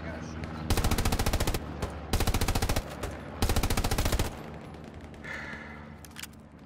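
MG34 machine gun firing in the video game Hell Let Loose, three loud sustained bursts of rapid automatic fire separated by short pauses, followed by quieter ambient game noise.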